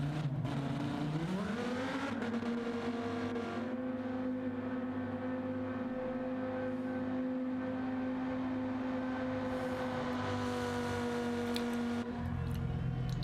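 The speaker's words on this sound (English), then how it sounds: "These guys are driving Lamborghinis in the rain for your entertainment." Lamborghini race cars in a sim racing game at Fuji, driving in the rain. A sustained engine note climbs in pitch early on, then holds a loud, steady drone before dropping near the end.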